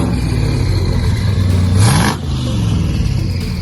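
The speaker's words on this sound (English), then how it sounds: "Listen to that killer startup." A car engine with a Hellion twin turbo kit cranks and fires up with a loud rising roar, then settles into a steady rumbling idle.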